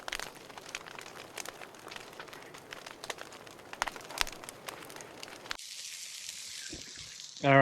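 Burgers sizzling over a campfire at a rainy overnight camp in Big Cypress National Preserve, a steady close crackle and hiss for several seconds that drops away near the end, followed by a brief loud burst.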